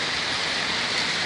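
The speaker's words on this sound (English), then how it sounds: "we're just sitting here, just watching the rain come down" Steady monsoon rain falls in Pattaya, a constant even hiss of downpour with no breaks or voices.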